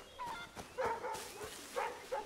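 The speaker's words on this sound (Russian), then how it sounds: "Эй, собачки, ну-ка не деритесь." Dogs fighting in Assassin's Creed III, a scuffle of several sharp barks, yips and snarls in quick bursts, fairly close, with a faint voice in the background.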